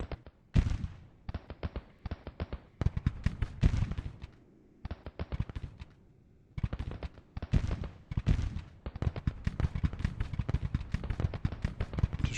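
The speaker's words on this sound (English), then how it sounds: "We've got 2 batteries, so I'm going to give both of them orders for counter battery fire." Artillery counter-battery fire from two cannon batteries in the Civil War strategy game Grand Tactician, heard as a dense run of sharp booming reports, some in quick volleys, others spaced apart, with brief lulls and no talking.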